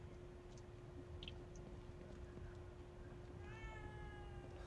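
Cat meowing in the survival horror game The Evil Within 2, a short rising call late in the moment over a steady low hum and murky ambient drone, fairly faint and with no talking.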